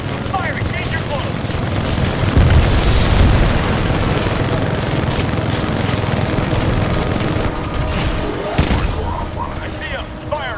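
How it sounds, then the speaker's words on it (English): Airstrike explosions in Titanfall 2, heavy booming blasts and rumbling bursts rolling one after another over a loud battle din, with a sharp impact near the end. "Calling an airstrike."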